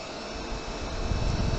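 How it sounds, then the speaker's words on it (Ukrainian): A cooling fan on a PowMR 6.2 kW hybrid inverter spins up, giving a steady broadband whoosh that grows slightly louder toward the end, heard close and on its own. "подивимось, чи буде по ньому спрацьовувати вентилятор"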